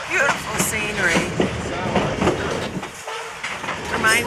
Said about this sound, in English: We are on the White Pass Yukon train outside of Skagway.